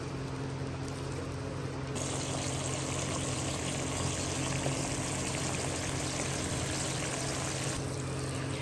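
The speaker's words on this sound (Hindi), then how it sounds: "यहाँ हमने 3 मीडियम साइज के टमाटर लिए, इनका पेस्ट बना लिया, इनको भी ऐड कर देंगे।" Tomato paste made from three medium tomatoes goes into a cooking pot for chicken degi korma, giving a steady, close, wet pouring and sizzling wash that runs unbroken throughout with no talk.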